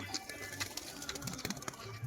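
A male pigeon, one of a flock kept for sale in Murshidabad, coos softly in short repeated throaty phrases, faint and close, with low background noise.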